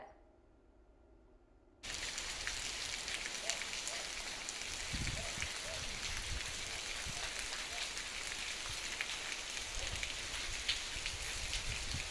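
Heavy rain pours down in a steady, dense roar that starts abruptly after a brief quieter moment, with occasional low thuds beneath the downpour.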